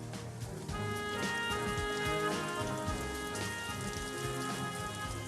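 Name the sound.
rain falling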